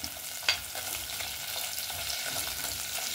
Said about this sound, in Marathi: तेजपत्ता आणि लाल मिरची ते टाकणार आणि त्याला परतून घेणार